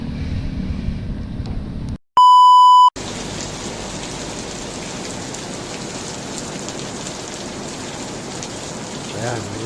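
Steady rain patters close and loud during a steep bicycle climb, a dense hiss interrupted once by a brief electronic beep tone before the downpour noise resumes.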